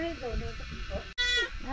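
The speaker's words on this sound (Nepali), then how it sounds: "थुप्रै छ यहाँ त बाख्रा" Goats bleat in a rural village in Gorkha, Nepal, several wavering nasal calls close by, one short high bleat standing out, with people talking over them.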